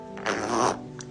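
A single short, buzzy fart-like sound, quiet and close, lasts about half a second in an indoor room with a pet parrot.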